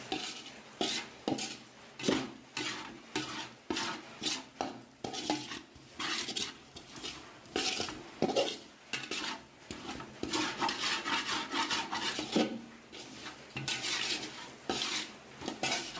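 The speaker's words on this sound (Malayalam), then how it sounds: "ഇനി നമുക്കൊന്ന് ഇളക്കി കൊടുക്കാം." A spoon scrapes and stirs macaroni pasta in a metal pan, with coriander and turmeric powder just added, making repeated rhythmic clinks and scrapes at close range with no talking.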